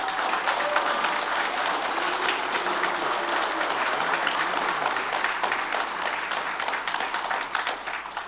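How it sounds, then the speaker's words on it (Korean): A packed hall bursts into steady, sustained applause for two candidates at a Gunpo mayoral election debate, dense clapping holding a level intensity throughout before thinning slightly near the end. "수고하고 계시는 우리 두 분의 후보님께 다시 한번 큰 박수 부탁드립니다."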